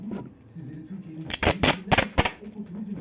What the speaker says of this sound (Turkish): Gelin bakalım birlikte bantlayalım